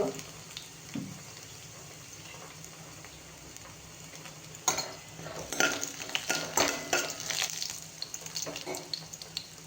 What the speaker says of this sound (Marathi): जिरे टाकल्यानंतर लसूण थोडस परतवून घेऊया